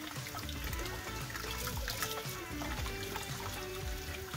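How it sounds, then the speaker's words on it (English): Water runs through a venison sausage casing, giving a quiet, continuous trickle and gurgle with small splashy bursts, heard up close with no speech. "You can run water through it."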